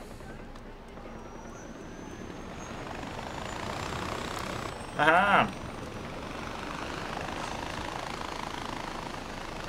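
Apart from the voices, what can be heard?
helicopter in Far Cry 4 video game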